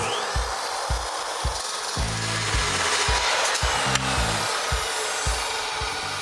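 A steel tube being cut to length on a workshop bench for a Jeep tie rod bar, giving a steady abrasive grinding drone with rhythmic low knocks and shifts in pitch throughout, close and loud with no talking.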